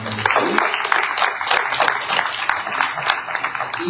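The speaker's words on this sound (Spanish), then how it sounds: "Así que recibamos con un fuerte aplauso a nuestro hermano de Saúl." A church congregation gives a loud, sustained round of applause to welcome a speaker, dense clapping from many hands filling the hall with a few voices mixed in.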